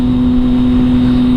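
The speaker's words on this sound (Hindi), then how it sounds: "लेकिन अब जब मैं बाइक चला रहा हूँ" A motorbike being ridden holds a steady, even engine hum, close and loud, with a faint rushing wind underneath and no voices.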